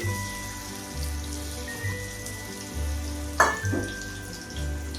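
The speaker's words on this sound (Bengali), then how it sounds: "এখন আরো দুটো ভেজে নিয়েছি" Banana flowers fry in hot oil, giving a steady crackling sizzle close by with scattered pops and a brief louder spatter midway, alone with no talking.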